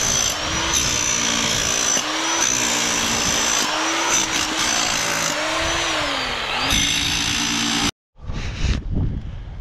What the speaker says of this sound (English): So jackhammer,